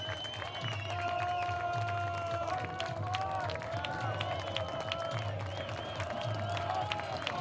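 A baseball crowd of a couple thousand at an Oakland Ballers versus Missoula Paddleheads game keeps up a steady roar of cheering as fans stand, with rising tonal calls over the crowd and an announcer talking throughout.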